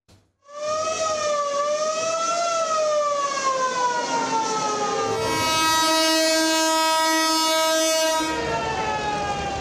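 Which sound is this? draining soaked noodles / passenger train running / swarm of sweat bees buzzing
passenger train running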